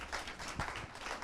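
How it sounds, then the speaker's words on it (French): A seated audience at a foundation panel event applauds three guests called to the stage, a brief burst of moderate clapping heard on its own. "On les applaudit parce qu'elles le méritent."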